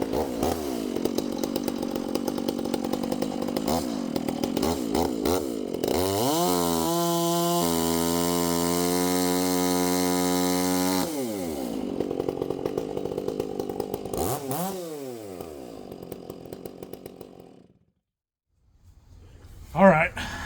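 A chainsaw cuts wood into bowl blanks, idling and revving as the throttle is feathered back into the kerf, then holding a loud sustained cutting roar before it slows, goes quiet, and briefly revs again.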